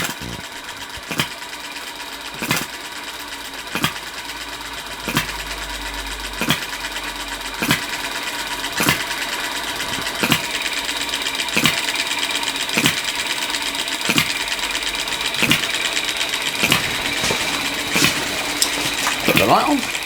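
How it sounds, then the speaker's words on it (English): A Stirlingkit B01 full-top hit and miss model engine drives a Retrol GF-01 miniature workshop, giving a close, steady mechanical whir with sharp regular firing knocks roughly every second and a light metallic clatter running throughout. "It's the Retrol Stirlingkit B01 full top hit and miss engine, very nicely driving the Retrol GF-01 Miniature Workshop."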